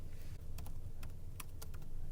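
Commands are typed on a computer keyboard in a quick irregular run of close, crisp key clicks over a steady low background hum.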